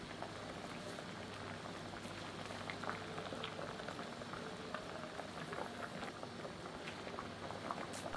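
Spinach soup simmering in a pot with a bunch of spinach being stirred in, giving a steady bubbling, watery hiss with faint scattered clinks throughout, moderately quiet and continuous with no talking.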